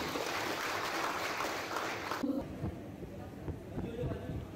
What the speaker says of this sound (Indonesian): Tepuk tangan dulu kita semuanya.